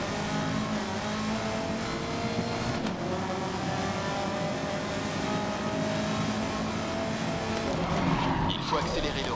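A race car in the racing video game GRID brakes hard, its tires squealing and skidding over a continuous, loud engine roar.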